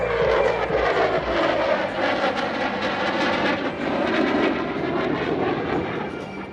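F-15 fighter jets perform a flying display at the Singapore Airshow, a loud continuous jet engine roar that stays steady and powerful throughout with a slight fade at the end.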